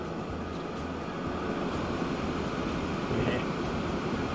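An oil freight train rolling past in the railway game Transport Fever 2, a steady broad rumble with a faint rhythmic clack of wheels, moderately loud, with someone talking over it.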